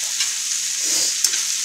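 Cabbage and eggplant fry in a skillet over medium heat with the lid off, giving a constant bright sizzle broken by a couple of short scraping stirs, close up and with no voices.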